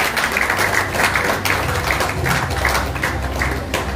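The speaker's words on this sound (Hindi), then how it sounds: "तो मैं चाहूँगा कि तालियों के गूंज में आपका इस्तकबाल कीजिए." Audience applause at a news channel awards ceremony welcomes a guest, a continuous loud wash of clapping from a crowd with no pause.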